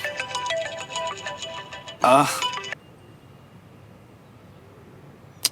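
Mobile phone ringtone from a call by loan agents, a bright repeating electronic melody that plays for about two seconds and is cut off by a sharp clattering burst, leaving quiet room hiss.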